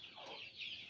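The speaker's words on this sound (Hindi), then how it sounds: "अरे एक चूजा नहीं पकड़ा जा रहा" A baby chick near a duck pool at a small home mini zoo gives quick, thin cheeping calls close by, steady and fairly soft throughout with no talking.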